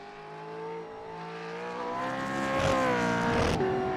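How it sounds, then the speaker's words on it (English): Gen 3 Supercar engine in the iRacing sim screams up through the revs and bounces hard off the rev limiter, a loud, close, stuttering high-pitched note with rising harmonics, no talk. "Oh, that limiter sound."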